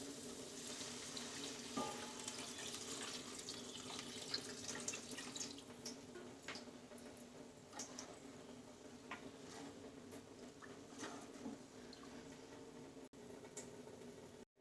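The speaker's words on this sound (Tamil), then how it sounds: "இப்போ தண்ணி ஆட் பண்ணிக்கலாம்." Water pours steadily into a cooking pot for meal maker biryani, a continuous splashing, tap-like rush with faint drips, close and moderately loud, no voices.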